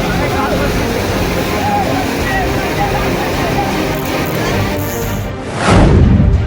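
Roaring flood waves surging through a river in Gujarat where a car is stuck mid-stream, a continuous loud rushing roar that swells into a heavier surge near the end.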